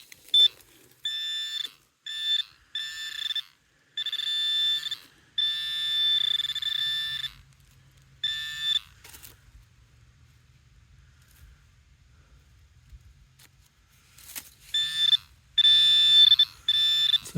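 A Nokta metal detector gives target signal tones on a farm relic site, sounding as repeated short high beeps in uneven bursts. A long quiet gap with faint low rumble follows, then a clustered run of loud beeps.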